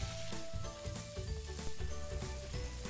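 Tomato chunks stir-fry over low heat in hot oil in a wok, a steady sizzle with stirring running under tuneful background music.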